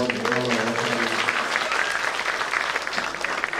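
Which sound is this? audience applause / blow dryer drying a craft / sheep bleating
audience applause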